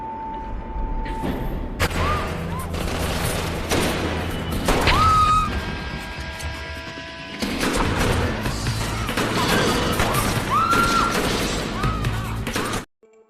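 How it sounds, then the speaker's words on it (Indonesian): Chaotic crashes, thuds and bursts of gunfire rattle through a loud shootout scene from the film Crank (2006), with dramatic music and effects layered throughout. "Adegan tembak-tembakan pun terjadi."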